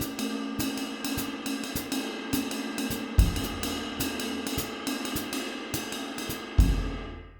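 Jazz drum permutation exercise played on snare and bass drum, a three-bar cycle mirroring a phrase in doubled notes: steady rapid strokes with cymbal wash, two heavier bass accents standing out, played alone with no voice.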